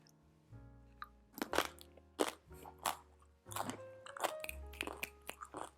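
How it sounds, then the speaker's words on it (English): Tortilla chips dipped in guacamole being bitten and chewed close up, a series of irregular crisp crunches spaced over several seconds, fairly quiet with no talking. "I love chips and crunchy things"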